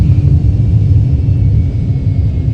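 Steady low droning airplane engine in the Roblox-style flight game Project Flight, a loud continuous rumble without breaks, heard alone.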